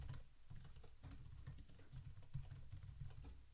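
Quick bursts of clattering keystrokes on a computer keyboard, close but fairly quiet, tapping in an irregular run with brief pauses.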